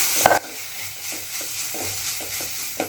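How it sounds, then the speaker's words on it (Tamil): Ginger garlic paste is sautéed in a pan over a low gas flame and stirred repeatedly. A steady soft sizzle runs under a series of scraping spoon strokes, with a louder clatter near the start and end. "இஞ்சி பூண்டு பேஸ்ட்டு நல்லா பச்சை வடை போகிற வரைக்கும் வதக்கி விட்டுட்டே இருங்க"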